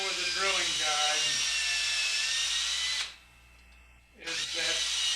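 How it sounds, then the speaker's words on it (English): An electric drill bores into a salt shaker by hand through a drilling guide, a loud high whine that holds for about three seconds, drops away briefly, then spins back up. "Now the problem with drilling it by hand, even with a drilling guide,"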